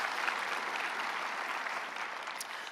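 A church congregation at a Sunday service breaks into steady, dense applause that fills the whole moment at moderate distance, with no speech over it.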